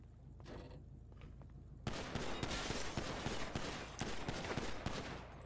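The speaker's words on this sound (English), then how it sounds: "So I get a gun and shoot." Video-game gunfire bursts out after a quiet stretch, a dense, loud fusillade of rapid shots and cracks that continues without a break to the end.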